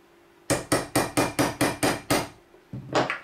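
A hammer strikes metal punches to stamp letters and numbers into a handmade silver bar, eight sharp ringing blows in an even rhythm, a short pause, then more quick strikes, close and loud with no talking.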